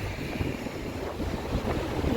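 Wind blowing outdoors, rushing steadily across the microphone as a loud, continuous roar with a watery, surf-like texture beneath it.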